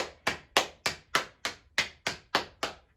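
Ten soft, evenly spaced pats of hands on legs, a steady quiet rhythm with no talking.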